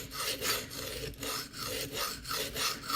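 Spyderco Endura knife sharpened freehand on a coarse stone, giving a gritty rasping scrape repeated in steady back-and-forth strokes, about six passes, close and fairly quiet.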